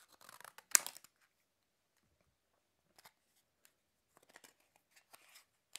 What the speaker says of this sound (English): open up the packet by cutting it open with a pair of scissors